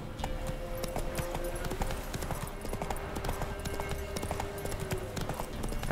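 Steady clip-clop of a horse galloping in The Witcher 3, rapid hoofbeats running throughout over game background sound, loud and continuous with a brief whinny-like touch.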